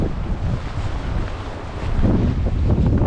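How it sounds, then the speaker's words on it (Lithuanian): Strong wind buffets the microphone in a continuous roar on a bridge in the UK, gusting harder toward the end, with water sloshing faintly underneath. "Žiauriai vėjuota."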